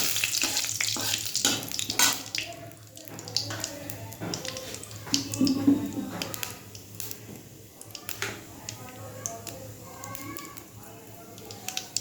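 Bay leaves drop into hot oil in a home kitchen pan, giving a steady hiss of sizzling with clattering stirring and utensil knocks, while a voice speaks intermittently over the frying.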